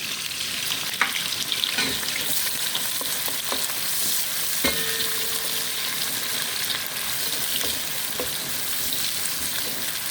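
Onions frying in hot oil in a pan, a steady close sizzle that runs the whole time, with a few faint clinks of a utensil and no talking.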